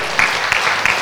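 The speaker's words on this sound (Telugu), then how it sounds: "మన షేర్ హోల్డర్స్ అందరికీ గట్టిగా చప్పట్లు కొడదాం." Audience clapping at a PMC Shakahara rally in Srikakulam, a brief burst of steady applause with a few sharper claps, heard close and loud.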